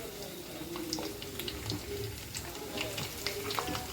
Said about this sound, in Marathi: तेल आपलं तापून झालेलं आहे. जिरे टाकून घ्यायचे.